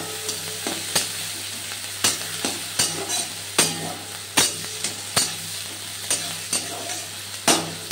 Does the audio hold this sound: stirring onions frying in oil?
yes